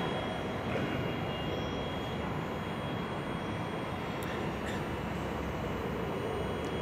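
TLK Jeziorak passenger train arriving at Wrocław Główny station, a steady loud broadband rumble and roar of rolling stock holding throughout without voices.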